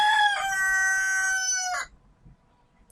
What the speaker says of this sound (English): It's raining, so the rooster's inside.